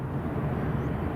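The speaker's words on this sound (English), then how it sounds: "Next up, here we have the Malta Air coming in" A Malta Air Ryanair jet approaching to land at Edinburgh airport gives off a low, steady, moderately distant engine rumble, short and without voices.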